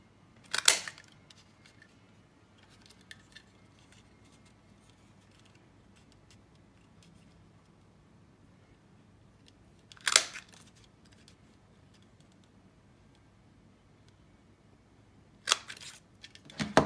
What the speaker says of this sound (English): using the border punch, I'll bring that in. Just going to punch a border all the way along.